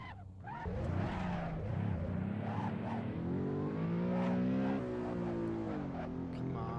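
A BMW E92 M3 engine in a racing video game climbs and holds near redline on a lap of the Nürburgring, a loud steady rising whine with shifting harmonics throughout, no speech.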